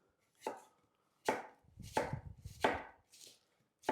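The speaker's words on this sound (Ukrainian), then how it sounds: "Її потрібно нашинкувати дуже дрібно." A knife chops finely through young red cabbage on a board, five crisp separate cuts at an uneven pace with short rustling between them, close and clear with no talking.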